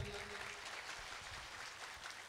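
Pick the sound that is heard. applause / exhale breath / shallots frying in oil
applause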